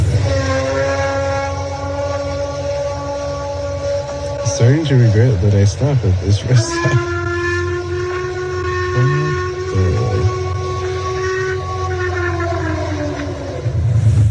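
A long, wavering, howl-like call purported to be Bigfoot, recorded near 11 p.m. at an Oregon truck stop, drawn out with rising and falling pitch over a steady background drone, with someone speaking briefly.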